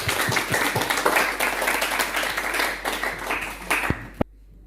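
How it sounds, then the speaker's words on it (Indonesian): A classroom of students applauds a classmate, a dense rush of many hands clapping at moderate distance that thins out and ends with a sharp knock before quiet. "Aplaus untuk Watrina."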